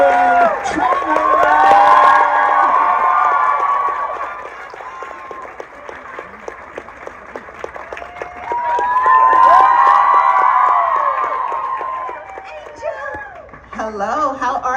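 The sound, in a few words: audience cheering and applauding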